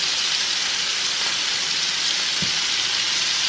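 A burger patty for a patty melt sizzles in a hot pan, its edges browning: an even, continuous hiss of frying that stays steady and fairly quiet throughout, with no talking.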